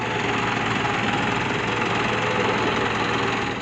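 A larger farm tractor's engine runs steadily, a continuous loud diesel drone with a knocking, rumbling texture that stays even from start to finish with no talking.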